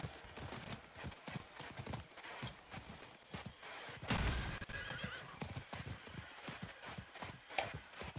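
Horse ridden in Diablo 4, with steady clip-clop hoofbeats, a loud neigh midway and scattered combat bangs and gunfire-like blasts around it, no talk.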